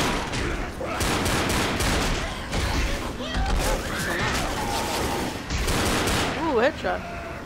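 Rapid gunfire from the zombie shooter Left 4 Dead, with dense bursts of shots and clattering impacts running almost nonstop, loud and close, while players talk over the action.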